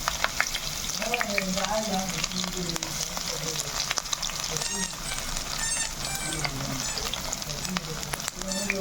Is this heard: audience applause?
no